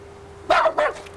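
A young dog gives two sharp, close barks in quick succession after a quiet moment, with a faint steady hum underneath.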